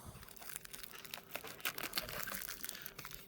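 Plastic packaging crinkles and crumples in bursts of crisp rustling as a Qubitron tool kit is unpacked, close-up, with soft tearing noises and no talking.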